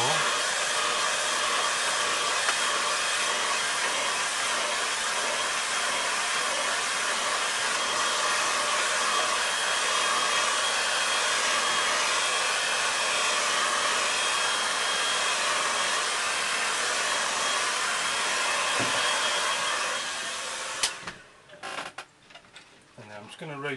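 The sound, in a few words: hair dryer drying a watercolour painting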